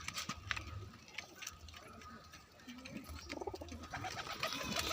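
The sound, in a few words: pigeons cooing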